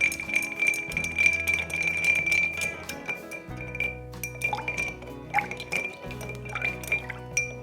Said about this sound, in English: we're just gonna add a large ice cube here and stir this until it's all well chilled